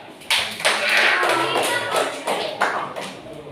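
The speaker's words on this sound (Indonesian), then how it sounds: "Tepuk tangan buat kelompok 4." Classroom applause for a student group, a small crowd clapping in uneven surges that swell, dip and pick up again over a few seconds, fairly close.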